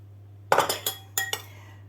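Fried vegetables are tipped from a pan into a pot for a chickpea dish, heard as a few sharp, close metallic clinks and taps of utensil against cookware in two short bursts over a low steady hum, with no talking.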